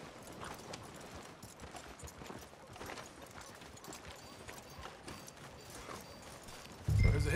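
Horse hooves clip-clop at a steady walking rhythm on a street in Red Dead Redemption 2, moderately close, ending with a burst of louder noise.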